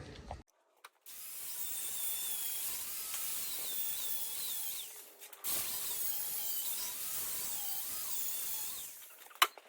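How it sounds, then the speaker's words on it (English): An angle grinder strips the galvanised coating off a steel chassis rail, making a sustained high-pitched whine and grinding hiss in two long passes with a short pause between them, fairly close. "We're going to grind back the gal on the chassis to go with it."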